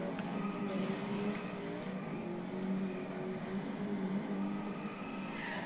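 Engine drone of a car in the video game Driveclub, played on a PS4 Slim, a steady sustained hum at moderate level throughout with no clear revving peaks.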